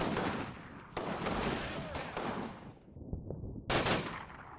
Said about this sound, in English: they'll start picking up contacts and open fire.